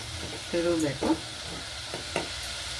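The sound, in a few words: stirring chili powder into tomato bath in pan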